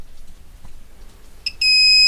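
A multimeter set to its continuity buzzer range beeps while testing parts of a 12-volt charger adapter under repair: a short chirp, then a loud, steady, high-pitched tone that holds to the end.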